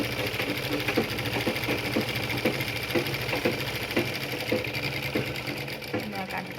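A sewing machine stitches fabric for a homemade hair band, running in a loud, steady, rapid mechanical rhythm up close with no pauses.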